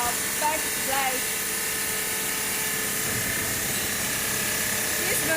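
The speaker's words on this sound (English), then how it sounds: "You can see right now we are cutting the back plate." A countertop cutting machine slices a stone back plate in a factory cutting area, giving a steady loud hiss and mechanical whine with a constant grinding drone throughout, and no pauses.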